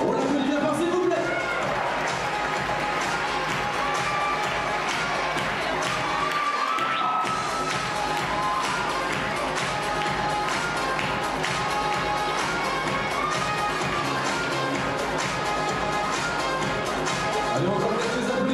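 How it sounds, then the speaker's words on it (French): A pageant audience gives sustained applause for Miss Bourgogne 2013: dense, steady clapping mixed with cheers and crowd noise from a large hall, over a host speaking into a microphone. "On l'applaudit bien fort, s'il vous plaît."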